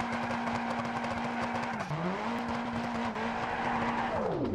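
A car drifts in a racing video game, its tires letting out a long, loud, steady squeal that dips and recovers in pitch while the engine drones underneath.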